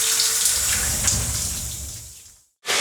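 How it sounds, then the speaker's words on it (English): A shower runs nearby, a loud, full rush of water that slowly fades and then cuts off to silence before it briefly bursts back in. "You probably didn't expect to see me in the shower, didn't you? Now you can hear the water"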